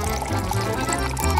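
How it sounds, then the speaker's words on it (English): Milk being poured over candy as a cereal substitute, a steady liquid pour running throughout with a low background hum and faint tonal sounds underneath. "Namely, I will pour milk with over candy."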